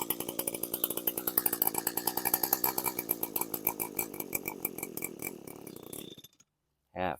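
A small two-stroke engine running on half choke, a fast buzzing, rattling idle with rapid pulsing beats that falters and cuts out near the end, followed by a short burst of noise.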